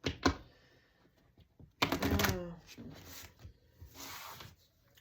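Cards riffle and snap together in quick rustling bursts, with softer handling noises between them, close to the listener.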